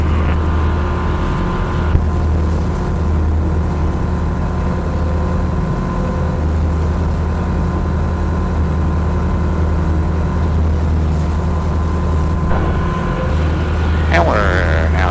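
Engine of a Pipistrel Sinus motorglider droning loud and steady from inside the cockpit through takeoff rotation and climb, with a constant low hum and wind noise.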